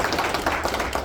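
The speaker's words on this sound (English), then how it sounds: "Give Mr. Hernon a big round of" A short, dense burst of audience applause for a high school football signing day, loud, close clapping from many hands with no gaps.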